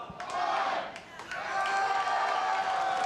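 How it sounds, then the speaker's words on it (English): Crowd at an NHRL robot fighting event cheering and yelling loudly and steadily throughout, a dense roar with scattered shouts and some clapping. "Crowd seems super amped up for 30s today."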